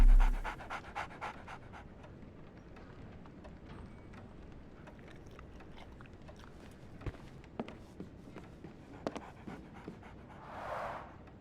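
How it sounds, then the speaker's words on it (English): A dog in the Sherlock Holmes The Awakened remake pants steadily and close, a soft continuous breathing rhythm that runs throughout, with a few faint footstep-like knocks in the background. "So, Barnes has a dog now."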